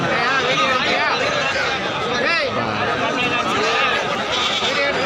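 Goats bleat repeatedly at a busy goat market, their wavering calls rising over constant crowd chatter and people talking close by.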